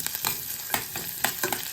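Plenty of onions fry in a pan for chicken liver adobo, sizzling steadily close up while a utensil stirs and scrapes them in quick, irregular strokes.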